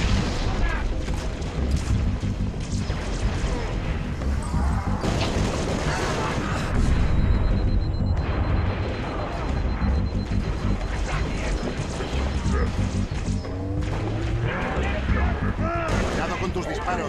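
Gunfire and explosions in the Halo: Reach video game, with loud, continuous battle noise of shots, booms and mechanical clatter over nearly twenty seconds, with voices calling out over the combat.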